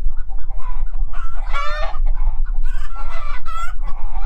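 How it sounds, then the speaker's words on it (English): Free-roaming farm chickens, out again after the snow has melted, cluck busily up close while a rooster crows in loud, repeated bursts over the flock's constant chatter outdoors. "watching all the chickens free roaming when the snow has melted"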